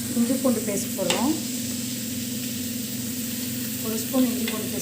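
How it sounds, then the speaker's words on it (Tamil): Ginger garlic paste sizzles steadily in a hot pan for a crab fry, with spoon-stirring scrapes near the start and again near the end, close and moderately loud. "இஞ்சி பூண்டு பேஸ்ட் போடுறோம்."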